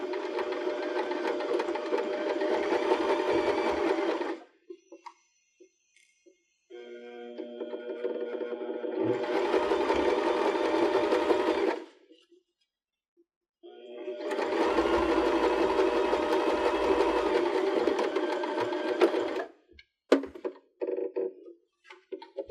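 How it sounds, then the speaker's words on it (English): A sewing machine straight-stitches cork strap trim onto a purse in three long runs of fast, steady whirring stitching. Short quiet pauses and a few clicks and thunks separate the runs. "So now back at the machine, I'm going to use the same foot again because this will help guide the trim through the machine, and turn it back to straight stitch."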